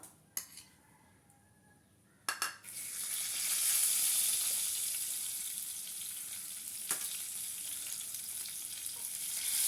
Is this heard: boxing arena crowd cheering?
no